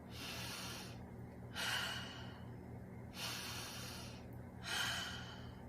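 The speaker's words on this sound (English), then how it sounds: "And take a deep breath." Slow, deep breathing in a quiet room during a guided gratitude relaxation exercise, with airy inhales and exhales alternating in long, even cycles, close to the microphone, soft and unhurried.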